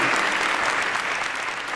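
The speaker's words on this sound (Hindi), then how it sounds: "एक बार जोरदार तालियां बजाइए" An audience at a school poetry-recital event claps in a dense, continuous burst of applause, loud and even throughout without a break.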